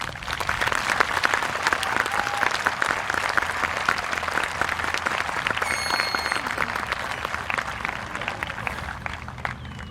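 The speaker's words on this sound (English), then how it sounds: "give a huge round of applause" A crowd at a high school commencement ceremony claps in loud, dense, sustained applause that fills the hall for the full length, then tapers slightly at the end.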